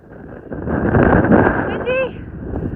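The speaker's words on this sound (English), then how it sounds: "Windy." Wind gusts across a mountain trail on the Continental Divide and roars steadily into the microphone as a broad, loud rush. A brief voice or whistle-like tone is heard near the end.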